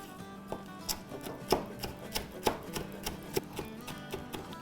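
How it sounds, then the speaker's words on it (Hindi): A knife finely chopping green chillies on a board, producing a steady series of crisp, close taps about three per second with a faint scraping rub underneath. "इसको बारीक बारीक चॉप कर लेते हैं"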